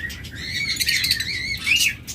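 Lovebirds in a bird shop keep up a dense, continuous stream of high chirps and tweets, close and lively, with no voices.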